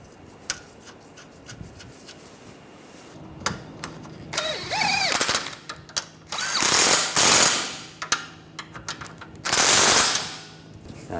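Ratchet tightening the stabilizer bar bolts on a 2009-2013 BMW 328i xDrive 3.0L, heard as bursts of rapid clicking and metallic clatter scattered through the clip alongside other mechanical knocks, with no talk.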